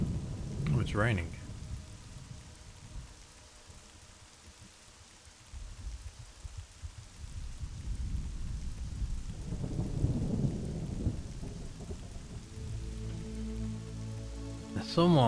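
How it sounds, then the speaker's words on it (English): Steady rainfall with deep rumbling thunder rolling in and out in the game Black & White, plus brief voice-like bursts at the start and end. "Oh, it's raining."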